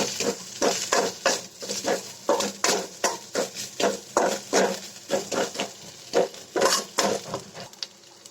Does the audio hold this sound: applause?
no